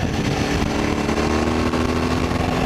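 A Suzuki V-Strom 1000 motorcycle engine drones steadily and loudly while riding through a corner, with constant rumble and wind noise throughout.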